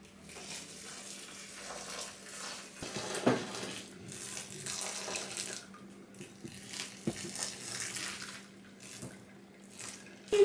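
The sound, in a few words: sparge water poured gently over grain mash for porter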